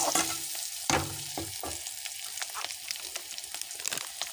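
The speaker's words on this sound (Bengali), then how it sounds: "এবার ভালোভাবে ভেজে নেব" Spices with chilli powder frying in a pan while being stirred, a close, constant sizzle broken by repeated scraping and clattering of the spoon against the pan.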